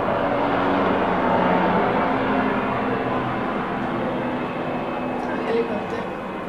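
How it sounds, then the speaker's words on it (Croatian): Airplanes fly overhead, a broad distant rumbling drone that holds steady throughout and fades slightly toward the end, heard indoors in a quiet room. "Opet neki avioni."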